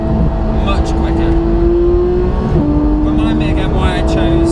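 A Porsche GT sports car, GT3 or GT4, accelerates with a loud, close engine drone rising steadily in pitch, dipping briefly at a gear change and climbing again beneath cabin chatter.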